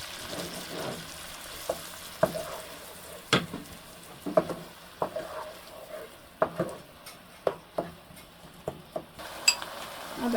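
Onions frying in hot oil for a fish curry, with a steady sizzle and repeated sharp clicks and scrapes of a utensil stirring against the pan at an irregular rhythm, close by and without talk.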